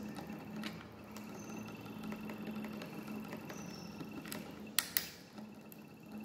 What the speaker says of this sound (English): switch senses only north pole, that's why the motor continuously running.